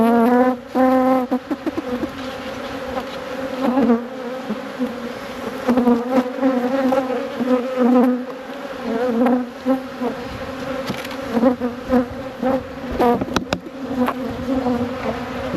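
Honey bees from a nucleus colony swarm around an open hive, their steady droning hum close and loud for the whole stretch, rising and dipping as individual bees fly past.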